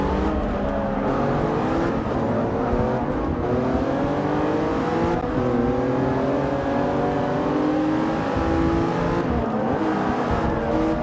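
Race car engines in the Forza 6 video game roar continuously, several cars droning and shifting pitch together at a steady loud level as a pack pulls away.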